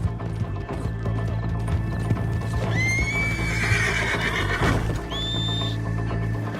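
In Red Dead Redemption 2, a horse whinnies loudly in a high, wavering neigh, then gives a shorter second call, over steady clip-clopping hooves and background game ambience.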